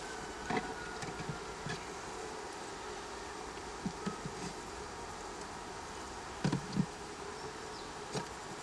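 A bee swarm buzzes as a steady, dense drone that fills the whole stretch, with a few faint knocks and rustles breaking through now and then.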